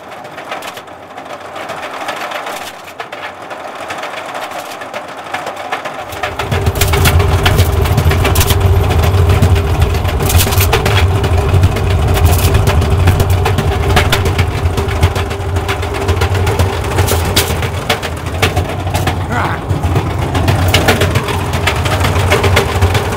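A washing machine motor kicks in after a few seconds of quieter noise and then runs steadily with a loud, constant hum and a rattling whir.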